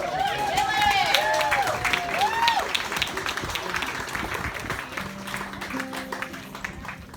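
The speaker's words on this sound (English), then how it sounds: "let's give her another round of applause" An audience at a Donner Party Chautauqua stage performance breaks into sustained applause. The clapping is dense and fairly close, with crowd murmur mixed in and a few whistle-like tones rising over it.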